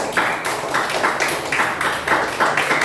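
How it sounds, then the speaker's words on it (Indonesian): A classroom of students claps for group 2 in a rhythmic, patterned beat, bursts of claps repeating roughly every half second, moderately loud and close. "Beri tepuk tangan untuk kelompok 2"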